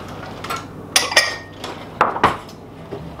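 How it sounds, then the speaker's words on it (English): A small dish is picked up and set down in a home kitchen, giving a few sharp ceramic clinks and knocks spaced irregularly over a few seconds, close and fairly clear. "let me grab a little dish"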